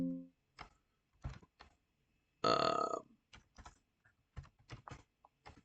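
A command is typed on a computer keyboard in short clusters of crisp, close key clicks with uneven gaps, plus a brief louder tonal burst midway, and no voices.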